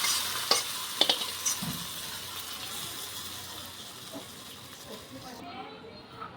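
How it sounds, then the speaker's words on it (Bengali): Garlic and chilli tempering fried in oil and poured over jute greens, giving a soft, steady sizzle with a few sharp crackles and clinks near the start, fairly quiet throughout. "এবার ওপর থেকে দিয়ে দিচ্ছি এই যে তড়কাটা"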